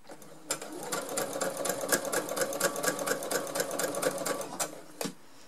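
Sewing machine running steadily as it stitches fabric for a bi-material curtain made from recycled textiles, a fast even whirring rhythm up close that halts briefly near the end.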